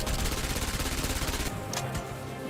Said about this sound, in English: So that's her shooting animation.